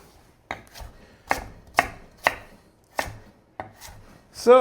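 A knife cuts sweet potato into fries on a cutting board, giving six or seven sharp, evenly spaced chops, close and clear, with no talk.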